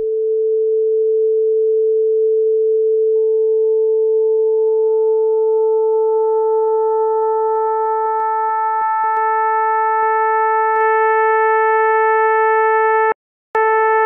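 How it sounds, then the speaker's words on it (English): A steady pure sine-wave tone holds, then a growing series of higher overtones stacks up as frequency modulation is applied, loud and continuous with a brief cut near the end. "Watch the sine wave now."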